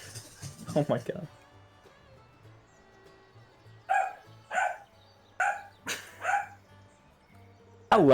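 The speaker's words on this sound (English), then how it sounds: "How loud is that when my dog barks?" A dog barks in a home, first a short cluster and then a run of five separate loud barks spaced about half a second to a second apart, with quiet gaps and low background hum between them.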